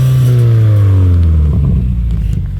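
A car engine revs hard, roaring loud and close as the pitch climbs and then eases back over a couple of seconds.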